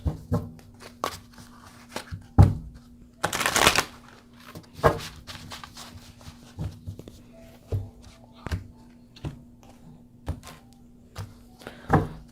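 Tarot cards shuffled and drawn from a deck, a steady series of soft slaps and flicks at close range, with a louder riffling burst partway through and a faint hum underneath.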